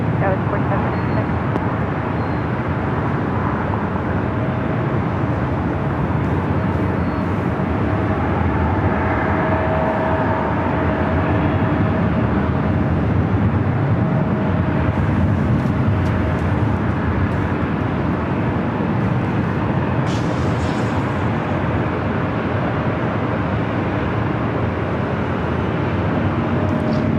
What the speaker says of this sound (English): Dreamliner also heading over to 24 left